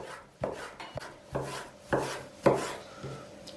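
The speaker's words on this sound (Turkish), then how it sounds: "Tavuklarımızı jülyen doğrayacağız." A knife chops raw chicken into thin julienne strips on a cutting board in slow, irregular strokes, about six distinct thuds with soft slicing sounds between them.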